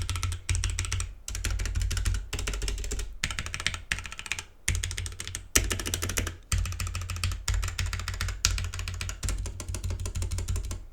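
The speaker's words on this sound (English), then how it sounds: "So we'll just press the keys a few more times" Computer keys pressed in quick bursts of clacking, with short pauses between runs; close and steady, no voices, picked up through a Roccat Torch USB microphone.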